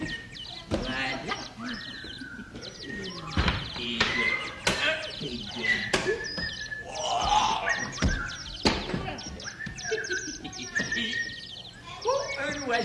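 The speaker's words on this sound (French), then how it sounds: "Oh, un oiseau, j'adore les animaux." A bird chirps in short bright calls amid a theatrical stage scene, with spoken dialogue and sharp knocks around the chirps, moderately loud and close.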